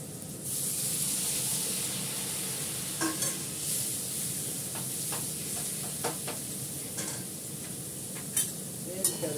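Marinated fish frying in a home kitchen pan, a steady close sizzle with stirring and scraping and a few sharp pops and clatters throughout.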